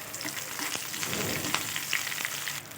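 Curry leaves, cashews and peppercorns sizzle and crackle in hot oil in a pan, a steady close frying hiss with scattered pops throughout.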